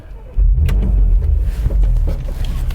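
Porsche Macan GTS engine rumbling loudly with a deep, steady low drone that swells as it accelerates, close and sustained without speech.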